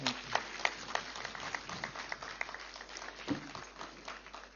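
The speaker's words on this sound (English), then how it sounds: "Let's give a huge round of applause." An audience applauds at a meditation leaders' conference in a large hall, a steady wash of many hands clapping at moderate distance for several seconds, with no voices over it.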